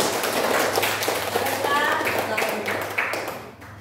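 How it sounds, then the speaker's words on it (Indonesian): Classroom applause for a student group: a dense patter of many hands clapping at close range for several seconds, fading out at the end. "Tepuk tangan untuk kelompok 2."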